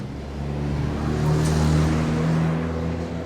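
A car drives right up behind a cyclist on an electric bike with its music blaring, giving a steady, close engine rumble and low droning tones that swell slightly through the middle and continue without a break.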